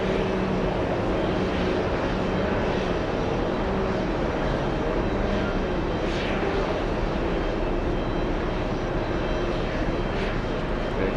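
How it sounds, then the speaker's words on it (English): Airport tug engine (Bison D1000) pushing back an aircraft, a steady loud broadband engine drone that holds level throughout with no talk over it. "You hear the engine of the tug?"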